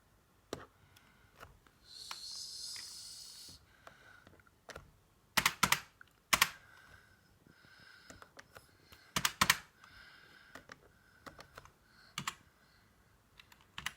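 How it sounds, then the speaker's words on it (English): Keys on a computer keyboard are tapped while coding in Python, sparse clicks and small clustered bursts of typing spread across the clip, close and quiet with no talk. "So I type in 16."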